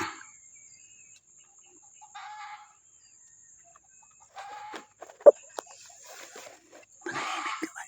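A rooster clucks in short, soft bursts outdoors, spaced out with quiet gaps, a sharp click in between, fairly close but faint.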